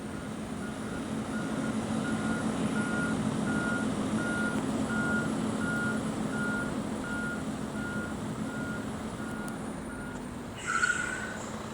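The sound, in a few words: truck reversing beeps while parking in a truck simulator video game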